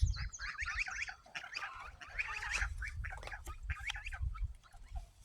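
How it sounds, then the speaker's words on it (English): Geese honk and ducks quack in a busy, overlapping chorus of nasal calls over a low rumbling background, moderately close and fairly faint overall, with no talking. "After a flurry of fussing, grunting, and groaning, slipping and sliding, honking and quacking, Duck and Goose found themselves back to bac"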